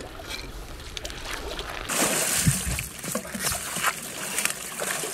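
A person wades and splashes into icy water in Yakutsk, Russia, with irregular sloshing and splashing bursts of varying loudness close by, no talk.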